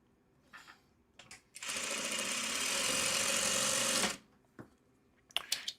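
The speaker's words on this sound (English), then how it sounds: "I'm just sewing crumbs together." A sewing machine stitches small fabric crumbs together, its needle chattering in a steady, fast mechanical run of about two and a half seconds, with soft handling sounds before and after.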